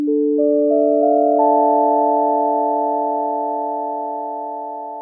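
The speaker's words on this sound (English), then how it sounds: "we've got this incredibly soft, delicate sine wave" Soft, delicate sine wave layer from the Omnisphere synth for haunting keys: a few clean, pure tones stacking in quick succession into a sustained chord that slowly fades, alone with no voices.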